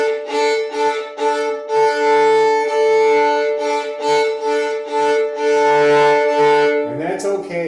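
Bowed string instrument played by a beginner with an uneven finger and arm bow motion, sustained tones that swell and dip with a gritty crunching edge, fairly close, ending in a brief scrape.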